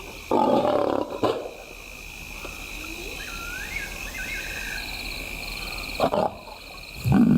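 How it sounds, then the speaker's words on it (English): A big lioness calls to her cubs in the African wild: low, rough roaring grunts in short bursts near the start, middle and end, over a steady bed of insects and crickets. "The big lioness begins the trek back for her cubs, but the youngsters have heard her call"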